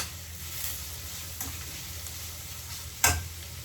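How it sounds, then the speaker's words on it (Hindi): Mixed vegetables sautéing in a pan for garlic noodles give a faint, steady sizzle with soft stirring, over a low hum, broken by one sharp utensil clatter near the end. "ये देखो हमारे वेजिटेबल्स सॉटे अच्छे से हो गए।"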